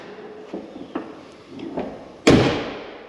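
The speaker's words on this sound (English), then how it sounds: "And the door closes very well." Door of a 1968 Plymouth Fury shutting with one solid, close slam after a few lighter clicks and handling thumps, the thud ringing briefly before fading.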